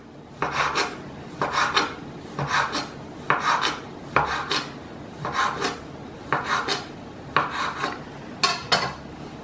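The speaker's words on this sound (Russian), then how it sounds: "И теперь очень тонко режу вот такой соломкой." A knife repeatedly slices dough into thin strips on a board for khvorost pastry, about ten rasping strokes in an even rhythm, close and clear with no talking.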